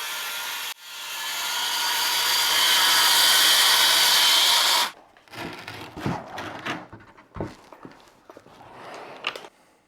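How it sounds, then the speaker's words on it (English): A panel saw cuts through a plywood sheet in one loud, steady whining pass of about four seconds, followed by clattering, knocking handling sounds in a workshop. "I can use it as a panel saw to safely break down plywood."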